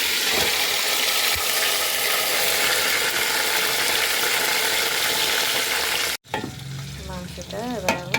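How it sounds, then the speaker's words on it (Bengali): Chicken pieces stirred and frying in a pan for a winter lunch, with a loud, steady sizzle and scraping of a spoon, then a brief pause and softer frying with clinks near the end. "মাংসটা এবার আমি নাড়া দিয়ে দেবো, দিয়ে এই দেখুন আমি নাড়া দিয়ে দিয়েছি।"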